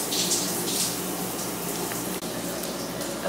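Shower running in a room at a cold plunge facility, a steady hiss of spraying water, close and continuous, with a brief knock partway through and no talk.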